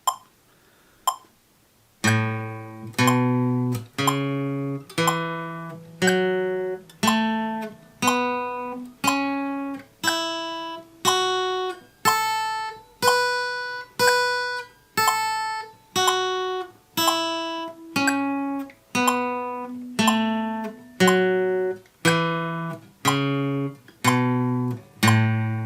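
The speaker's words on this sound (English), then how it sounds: "I'll play them exactly in time with the metronome" Single guitar notes of a pentatonic scale ring out one per beat in time with a metronome at 60 bpm, each pluck distinct and decaying, evenly spaced, close and clear with no voices.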